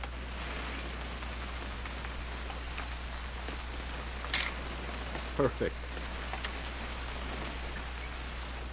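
Steady rain hiss in the video game What Remains of Edith Finch fills the whole stretch, with a brief spoken word and a few faint clicks over it.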